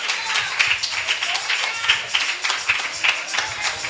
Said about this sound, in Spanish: Vamos, iglesia, dale un fuerte aplauso a Jesucristo,